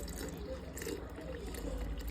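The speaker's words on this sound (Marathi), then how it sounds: "अर्धा लिटर थंडगार दूध टाकत आहे" Half a litre of cold milk pours into a glass with rose syrup and soaked basil seeds, a soft, steady liquid splash close by, quiet and unbroken for a couple of seconds with no talk.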